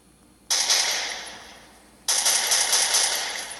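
Two long bursts of video game gunfire, each starting abruptly and rattling on for over a second with slowly fading loudness, separated by a short gap; fairly loud with no talking.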